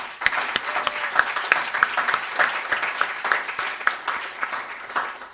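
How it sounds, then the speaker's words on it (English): Steady applause from an audience at a Changemakers event, many hands clapping in a continuous even patter at moderate volume, alone without talk. "let's just give you a round of applause"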